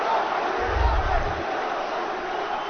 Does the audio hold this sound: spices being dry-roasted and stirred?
no